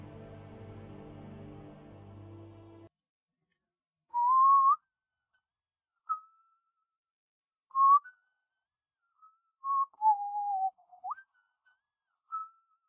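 Someone whistles a tune after a brief hum, short clear whistled phrases with pauses between them, close and fairly loud, with nothing else heard.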